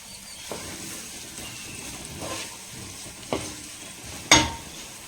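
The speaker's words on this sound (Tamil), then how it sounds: "வெங்காயமும் கருவேப்பிலையும் வதங்கிட்டு இருக்குது" Onion and curry leaves sauté in hot oil in a pan, giving a soft, steady sizzle with a few brief scraping or clinking stirs near the end. Nobody speaks.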